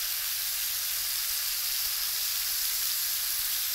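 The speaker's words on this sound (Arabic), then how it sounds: "مش عايزين نكسر الكفته، نبتدي نقلب" Kofta of beef and lamb sizzles steadily in a hot pan as it is turned, a continuous bright frying hiss with no voices.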